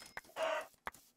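Chickens in a Minecraft UHC game give a few short clucks, one longer squawk between brief clicks, all faint and close with no talk.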